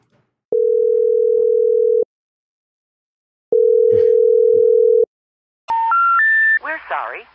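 A telephone ringback tone on an outgoing call: two long, steady tones separated by a pause, then three quick rising intercept tones for a disconnected number, after which a recorded voice starts speaking.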